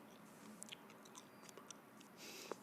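Gum is chewed loudly near the microphone in an ASMR setting, with soft wet clicks and smacks at an irregular pace over faint background hiss.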